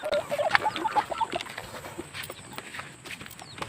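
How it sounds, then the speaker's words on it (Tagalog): Chickens clucking and calling nearby, with a short run of tonal clucks early on over a busy outdoor background of rustling and movement. "Ay, manok oh."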